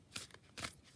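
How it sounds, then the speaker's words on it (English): A deck of oracle cards from the Healing the Mind and Spirit set is shuffled in two quick, soft riffling bursts. The sound is close and quiet, with no talking. "I am actually going to shuffle our thought of the day from the Healing the Mind and Spirit cards by Dr. Brian L. Wiess."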